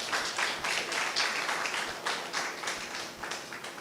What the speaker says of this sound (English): I think Volta region needs a round of applause for this.